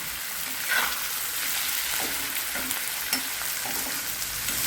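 Masala paste with coriander stems and cashews roasting in a pan for a pea and paneer curry, a soft steady sizzle with occasional light scraping stirs, close and without talk.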